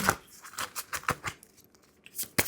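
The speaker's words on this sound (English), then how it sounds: "I'm gonna shuffle one more time." Quick papery flutters and snaps from tarot cards being shuffled, several sharp bursts spread across a couple of seconds, close and fairly quiet, with no talking.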